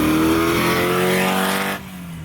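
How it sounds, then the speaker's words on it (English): A Porsche Speedster replica with an old Volkswagen Beetle air-cooled engine runs loud and close with a steady buzzing drone, its pitch sagging slightly before it drops off near the end. "you still have this like old school Volkswagen Beetle Porsche sound, right?"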